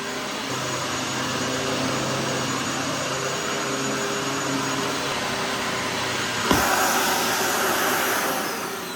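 A brand-new Dyson Ball DC41 Animal upright vacuum cleaner runs with a steady, close whooshing motor hum and airflow that briefly changes pitch and texture near the end, with no voices.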